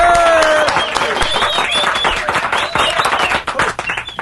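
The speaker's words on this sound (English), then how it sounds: "y'all give a big round of applause for Dr. Todd Smith." A studio audience gives a round of applause for a guest on a morning radio show, the clapping dense and steady with cheering voices and talk mixed through it.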